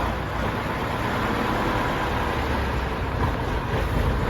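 An old Tatra truck engine runs at a steady idle, a continuous heavy low rumble with constant loudness and no talk over it, heard at a museum in Kopřivnice.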